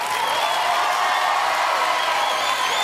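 A studio audience at the live TV show Star Academy on TF1 applauds and cheers in a dense, continuous roar of clapping, loud and sustained from start to finish with no break.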